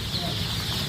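Young chickens cluck close by in a poultry pen, a brief burst of soft clucking over a steady hum of background noise.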